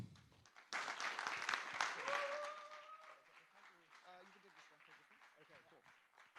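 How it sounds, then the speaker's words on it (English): Audience applause welcoming a panelist on stage at an investors day event, a burst of clapping that swells, then fades gradually over a few seconds. "a big round of applause"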